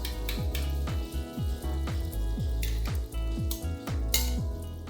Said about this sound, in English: we're going to add half a kg of whisked yogurt